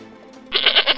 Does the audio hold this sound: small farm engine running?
no